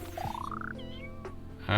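A cat called Minion in the video game Potion Master gives a rising meow, followed by a couple of short chirps and a closing sound effect.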